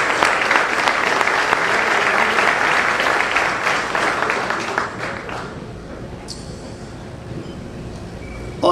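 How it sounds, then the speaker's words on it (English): A gala crowd at the Ohio University Eastern 60th Anniversary applauds its sponsors, dense sustained clapping filling the room for about five seconds before fading into quieter scattered claps and room noise. "How about a big round of applause for all of our sponsors?"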